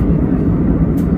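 Steady low jet cabin drone on a Mumbai to Thailand international flight cruising over the sea, a loud continuous rumble with no breaks and no talking.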